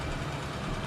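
A car with a loud modified exhaust idles nearby in a brief, steady low rumble with no talk over it.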